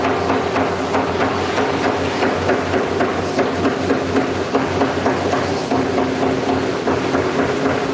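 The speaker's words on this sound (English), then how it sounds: "These are the steel boards after being punched, with holes being punched." Industrial machinery punches holes in steel boards, producing a dense, continuous loud clatter of rapid metallic impacts over a steady mechanical hum, with no talking.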